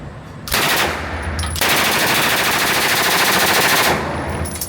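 A machine gun fires full auto at an outdoor range in one long, loud sustained burst of rapid shots, close and uninterrupted for several seconds.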